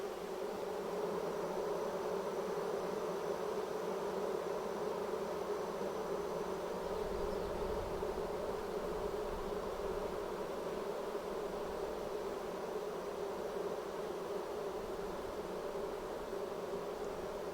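A dense, steady hum of a honeybee swarm buzzing together, continuous and close, with no voices over the drone.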